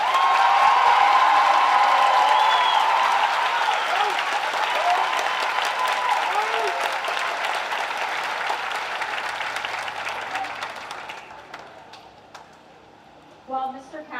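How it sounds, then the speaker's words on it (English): A large audience at a graduation ceremony applauding loudly and steadily for students, the clapping thinning out and fading to near silence toward the end, with a faint whistle or cheer early on. "Please join me in giving a heartfelt round of applause for these students."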